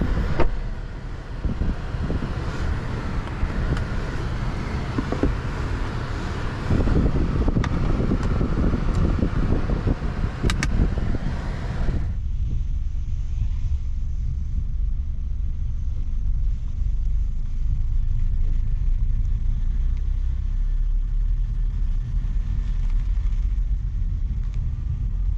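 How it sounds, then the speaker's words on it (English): Interior cabin sound of a 2022 Nissan X-Trail e-Power e-4orce driving on the road: steady broadband road and wind rumble, louder and rougher for the first twelve seconds, then a calmer, quieter drone. "let's take the Xtrail out on the road and see how it performs"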